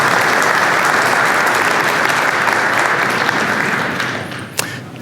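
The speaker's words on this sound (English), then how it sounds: "Give yourselves a round of applause." Dense, steady applause from a large audience at a law firm retreat keynote in San Francisco, sustained and loud before thinning and fading in the final second.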